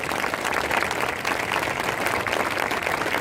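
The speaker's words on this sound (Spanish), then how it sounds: "Denle el aplauso grande a nuestro Dios." An audience at a charismatic church assembly breaks into big applause, a thick, continuous crackle of many hands clapping at steady loudness for a few seconds with no talk over it.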